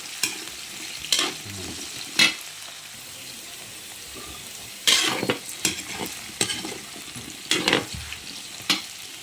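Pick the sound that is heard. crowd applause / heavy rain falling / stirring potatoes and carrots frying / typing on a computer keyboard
stirring potatoes and carrots frying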